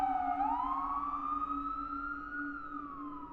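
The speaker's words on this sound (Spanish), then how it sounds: "Las sirenas llegaron." An emergency vehicle siren, used as a sound effect, wails in one long rising and slowly falling tone, loud and steady without speech.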